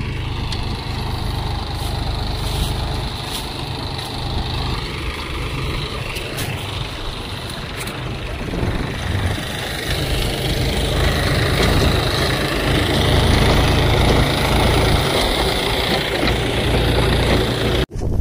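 A tractor engine runs nearby in a steady low rumble and idle-like throb, growing louder and heavier about halfway through and holding at that level.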